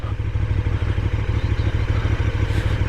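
KTM 1290 Super Duke GT motorcycle on the road, its engine giving a loud, steady low throbbing pulse with mechanical clatter, close and continuous with no talking.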